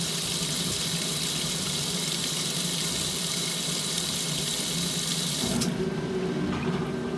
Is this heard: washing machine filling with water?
yes